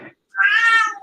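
A cat lets out one loud, drawn-out meow up close, harsh and almost bark-like, after a short soft sound and a moment of silence.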